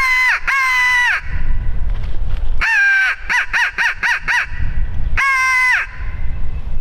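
A handheld crow call blown loudly and close: long harsh caws, then a rapid series of short caws, then another drawn-out caw, imitating a crow.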